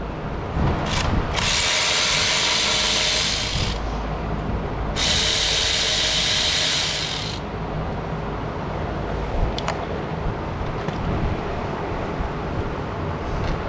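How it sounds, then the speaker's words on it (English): A ratchet or power tool removing 10mm bolts on a 2006 Honda Civic, two loud buzzing bursts over a steady background of engine-bay work noise, with no talk. "Next, we're going to remove the 2 10mm bolts right here."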